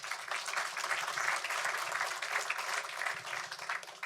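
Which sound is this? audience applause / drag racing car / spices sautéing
audience applause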